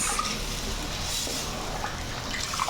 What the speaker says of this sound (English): I'm going to add 2 cups of water